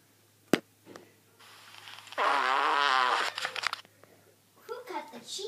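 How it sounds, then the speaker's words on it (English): A playful fart noise, a loud buzzing blurt lasting about a second amid other crinkly sounds and brief child-like voices. "Hope you have fun with some noisy farts."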